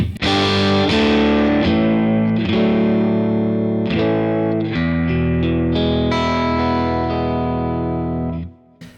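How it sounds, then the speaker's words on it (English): Overdriven electric guitar through a Neural DSP Quad Cortex playing a sequence of sustained chords, washed in a spacious hall reverb that lingers as the final chord fades out. "So I've got hall reverb, which is more or less on all the time."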